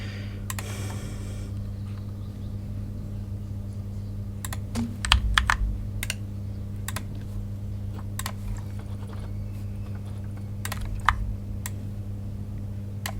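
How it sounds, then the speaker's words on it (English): A loud computer keyboard clatters with scattered sharp key clicks over a steady low hum, the keystrokes irregular and close by. "I like my loud keys."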